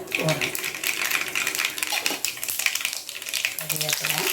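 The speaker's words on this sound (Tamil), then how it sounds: "கடுகு பொரிஞ்சிடுச்சு" Mustard seeds spluttering in hot oil while brinjal chops are being cooked, a dense crackling patter of pops, close and continuous, with a voice talking over it.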